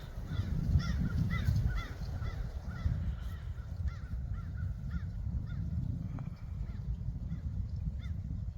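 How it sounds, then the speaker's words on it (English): Several crows caw in short repeated bursts at a moderate distance over a low rumbling background, with the calls spread across the whole stretch. "Anyway, the crows."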